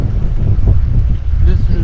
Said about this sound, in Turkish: Ama bir rüzgar da var ha. Bayağı bir rüzgar da var.